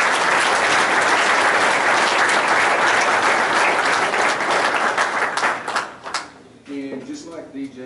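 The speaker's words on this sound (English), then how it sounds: "So give Hannah a round of applause" Audience at a high school all-sports awards banquet breaks into sustained, loud applause that fills the room for about six seconds, then tapers off as a speaker begins talking.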